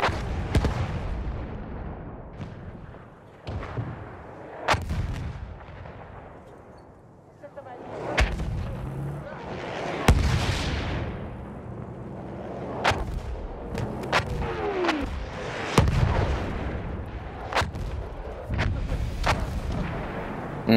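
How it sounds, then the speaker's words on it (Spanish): An enemy artillery barrage in Battlefield 1, with repeated sharp blasts and booming impacts at irregular intervals, some near and loud, others distant, over a rumbling battlefield background. "Espera a que cese la descarga de artillería enemiga"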